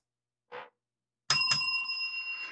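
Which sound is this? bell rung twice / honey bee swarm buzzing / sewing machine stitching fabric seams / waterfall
bell rung twice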